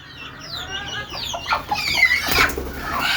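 Desi chickens in a backyard coop during the rainy season cluck close by, with a few short clucks rising into a louder burst of squawks.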